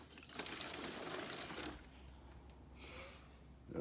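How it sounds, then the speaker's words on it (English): Water poured into a plastic milk jug, a faint gushing splash for about a second and a half, then quieter trickling and a brief second splash near the end. "A little more water in that milk jug."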